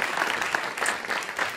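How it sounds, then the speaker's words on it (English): An audience claps for the winners of an astronomy-themed cake contest, dense steady applause heard throughout at close, even loudness. "So give them a big round of applause."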